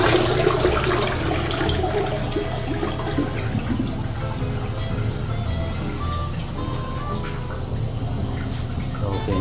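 A newly installed toilet bowl is flushed, and loud water rushes and swirls for several seconds before the tank begins a steadier refill hiss, heard close up with a voice speaking briefly.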